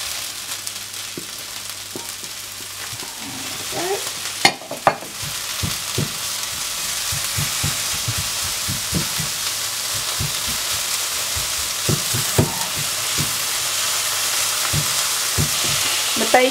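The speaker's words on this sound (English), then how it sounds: "I think that's ready now, so I'm just going to put in the bacon." Bacon frying with softened onions in a pan for quiche Lorraine, a continuous bright sizzle with repeated clicks and scrapes of stirring, plus a couple of sharper knocks early on, close and steady with no talk.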